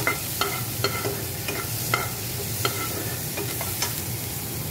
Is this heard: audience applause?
no